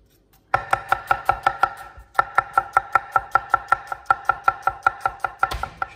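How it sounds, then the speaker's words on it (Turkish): Onions are chopped very finely with a knife on a cutting board, a fast, even series of close, crisp taps with one short pause partway through. "Soğanları çok ince doğrayacağım"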